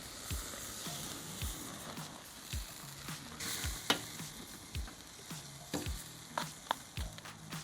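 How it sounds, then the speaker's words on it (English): Tri tip steak sizzles and flares on a Mallory M1 grill grate over a charcoal fire, a soft continuous crackle broken by scattered sharp pops and spits, fairly quiet and close. "That fat cap side really gets it flaring"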